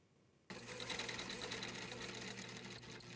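A sewing machine starts abruptly after a quiet moment and keeps stitching in a fast, steady, close mechanical whir until the end.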